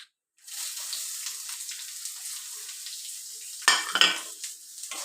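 Cooked yam pieces sautéed with green chillies and chopped onion in a pan: after a brief silence, a steady close hiss of sizzling begins, with light stirring scrapes and a louder crackling burst toward the end, no talk.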